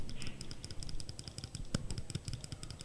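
Loud clicking from a computer mouse in a small home office, a run of sharp, closely spaced clicks in a fast irregular rhythm over a faint steady background hum.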